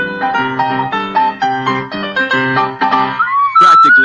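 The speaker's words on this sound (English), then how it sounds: "everyone sounds like this when first beginning to play the recorder." A recorder played haltingly by a beginner, shaky wobbly notes with squeaky high shrieks near the end, close and fairly loud.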